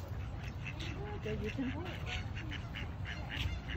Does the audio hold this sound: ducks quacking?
yes